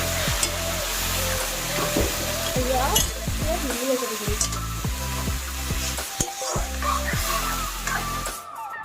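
Boiled bottle gourd fries and is stirred in a pan with turmeric, cumin and coriander, a loud steady sizzle broken by repeated scraping and clattering strokes of a spoon against the pan, with no talking.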